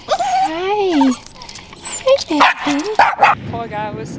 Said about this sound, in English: He kept barking